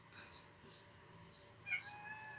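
A domestic cat meows a few times indoors, fairly close and moderately loud, with a sharper cry near the end.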